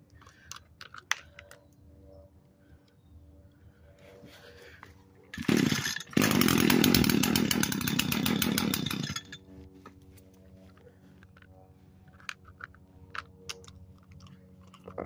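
An older 2019 Echo SRM-225 string trimmer with a broken choke is pull-started, a brief burst followed by a loud, ragged two-stroke engine roar lasting several seconds before cutting out, with clicks and handling noises around it.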